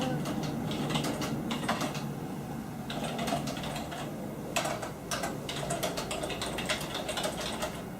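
Rapid, uneven tapping on a smooth computer keyboard as a question is typed, clattering in close bursts with brief pauses and no talk over it.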